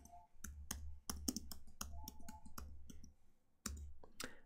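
Computer keyboard typing and mouse clicking, close and crisp, in irregular bursts of sharp clicks with brief pauses.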